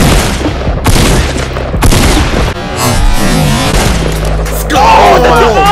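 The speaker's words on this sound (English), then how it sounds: "I'm hearing some shots going up." Gunfire in the Fortnite video game, a run of loud booming shots and rapid bursts that land in irregular clusters, close and heavy, while a voice talks over part of it.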